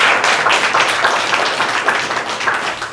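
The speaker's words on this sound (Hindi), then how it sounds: "ताली बजाओ एक बार जोरदार।" Loud, sustained applause from a seminar audience fills the space for about three seconds, a dense, steady wash of many hands clapping together without pause, with no voices standing out.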